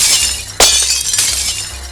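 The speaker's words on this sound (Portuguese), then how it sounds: "E quando a barreira começa a quebrar," A protective glass barrier shatters in a dramatized comic-book scene: a sudden loud crash cuts through a dense, hissing roar of background noise, followed by lingering crackling debris.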